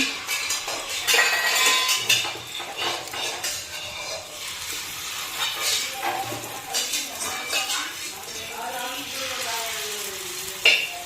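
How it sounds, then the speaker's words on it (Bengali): Pumpkin flower fritters dropped into hot oil in a wok give a steady, close sizzle, mixed with clinks and scrapes of a utensil against the pan, with no clear talk. "কড়াইতে তেল দিয়ে বসিয়ে দিচ্ছি, তেলটা গরম হয়ে গেছে। এখন আমি বড়াগুলো দিয়ে দিচ্ছি।"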